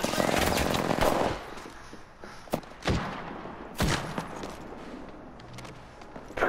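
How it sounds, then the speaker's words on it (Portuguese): Anime battle gunfire: a dense burst of rapid shots at the start, then a few isolated loud bangs and thuds spaced apart, with quieter background between them. "Vocês pararam de atirar."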